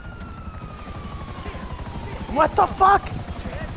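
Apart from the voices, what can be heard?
police helicopter in the video game Grand Theft Auto 5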